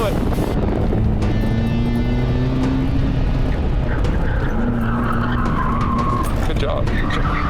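A car drifts through a corner with tires skidding in long squealing sweeps over steady engine noise and wind buffeting, while a voice talks intermittently over it.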